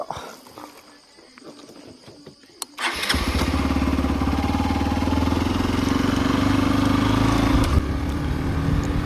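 Motorcycle engine fires up after a quiet moment with faint sounds, then holds a loud, steady throbbing run close by through the rest of the ride, no talking over it.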